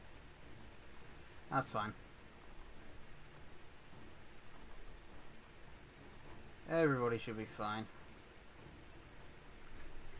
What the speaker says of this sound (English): And of course it's pissing it down with rain,